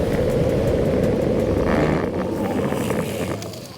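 Electric skateboard braking at speed on a WowGo or Meepo board during a brake test, a loud steady rumble of wheels and wind noise that gradually fades as the board slows.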